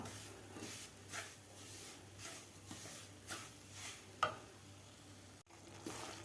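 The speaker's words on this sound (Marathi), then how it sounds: "बारीक गॅसवर व्यवस्थित रवा भाजला जातो" Semolina roasts in ghee over a low gas flame, a faint, soft sizzle broken by gentle, regular stirring strokes roughly every half second, with no talking.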